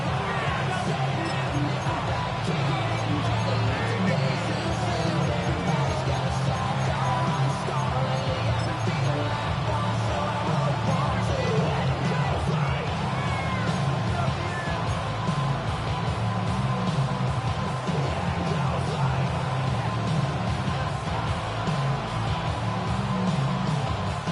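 A football stadium crowd roars steadily during a goal-line play against the Bengals, a dense continuous wall of cheering and noise heard from within the stands.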